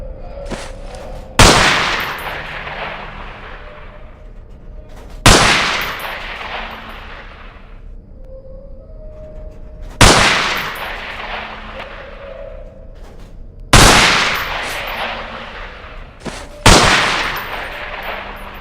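MP5 submachine gun fire in the video game Underhell, shooting at pop-up targets in a shed: five loud, sharp bursts spaced a few seconds apart, each trailing off into a ringing decay.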